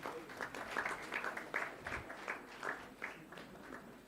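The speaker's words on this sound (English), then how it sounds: "A big round of applause," An audience at a research seminar claps, a quiet patter of many hands from a modest crowd in a hall lasting several seconds, with no speech over it.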